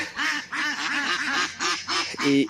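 Several farm ducks quacking nearby in quick, overlapping bursts, loud and nasal, with a louder honking call near the end.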